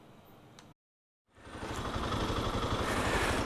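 A motorcycle engine runs in Hong Kong on the way out to Fanling in the New Territories; after a brief dropout it swells into a loud, steady, close drone that stays strong to the end, with no voices.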